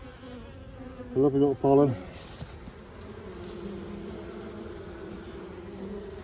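Defensive honeybees buzz around an opened hive at an outdoor apiary, a faint steady hum that runs throughout, with a short spoken remark near the start.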